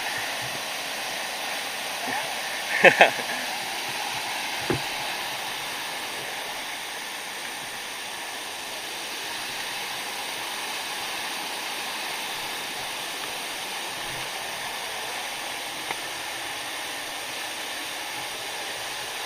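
Rushing water from a waterfall, swollen after heavy rain, a continuous loud broadband roar that stays steady throughout, with a few brief knocks early on and faint voices beneath.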